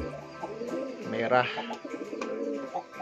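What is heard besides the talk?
Javanese Sungut pigeon cooing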